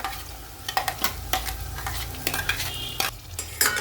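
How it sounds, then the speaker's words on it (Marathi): Onion, tomato and cashew paste for a hotel-style mixed veg curry sautés in a pan, with a close sizzle and frequent sharp scrapes and clinks of a spoon against the metal, and no talking. "आता आपण हा पेस्ट आहे ना टाकलेली तर परतून घेऊ पेस्टला"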